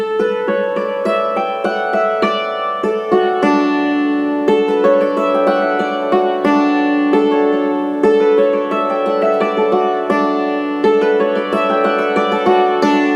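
Hammered dulcimer played in a steady stream of struck, ringing notes stepping down a scale, each strike decaying into a shimmering overlapping sustain, close and fairly loud with no voices.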